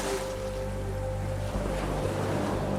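Ocean surf washes steadily and softly under a meditation recording, with a continuous broadband rush of waves and wind and faint sustained tones humming beneath. No voices.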